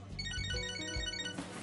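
A mobile phone ringtone plays in the video game Catherine: Full Body, a bright melodic electronic ring heard close and clear, ending abruptly after about a second and a half.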